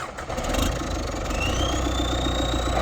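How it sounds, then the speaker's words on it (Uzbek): A tractor engine runs loud and close in a steady, throbbing idle, with a rising whine appearing partway through as it keeps going. "traktorchimiz traktorda yurgizlar. Mashinani boshlab oldik."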